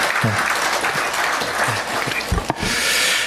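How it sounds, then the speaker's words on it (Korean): Church congregation clapping to welcome back a returning member during a service, a steady, dense patter of hand claps close to the microphone, briefly interrupted by a couple of louder knocks. "박수로 한번 격려해 주시기 바랍니다."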